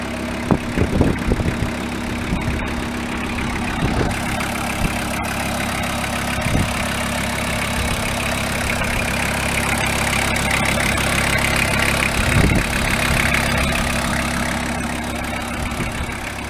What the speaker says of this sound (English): That's quite a nice sounding diesel engine. It just ticks over perfectly.